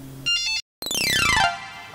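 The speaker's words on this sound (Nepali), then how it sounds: "कसको फोन हो" A mobile phone ringtone plays, a short electronic chiming melody followed by a bright sweeping synthetic cascade after a brief gap, fairly close and alone.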